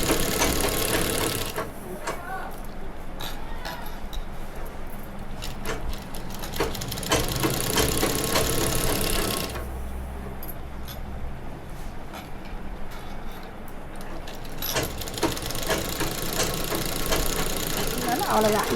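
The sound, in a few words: sewing machine stitching a nighty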